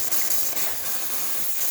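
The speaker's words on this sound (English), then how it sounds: "We have the steam heater on." A Gaggia Classic espresso machine's steam wand releases a strong, steady hiss of steam, close and continuous with slight sputtering variations.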